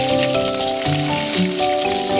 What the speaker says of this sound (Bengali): আমি এবার ভেজে নেব।